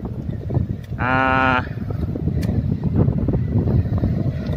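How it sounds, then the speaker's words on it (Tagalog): Strong headwind roars and buffets the microphone steadily during a bike ride, and a short bleat-like call rises briefly over the gusting noise. "Medyo malakas yung hangin na sumasalubong"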